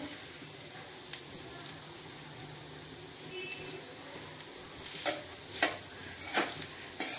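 Coriander stirred into mutton rakti cooking in a pan, a faint, steady sizzle with soft scraping stirs that grow louder near the end.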